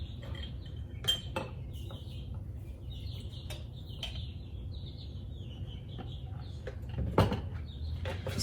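Chia pudding with almond milk being stirred in a bowl, light clinks and scrapes of a spoon with a couple of sharper taps, close and quiet with faint bird chirps in the background.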